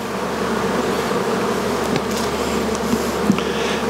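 Honey bees drone steadily around hive frames during spring queen grafting, a close, dense, continuous buzz with individual bees flying past, with no talking.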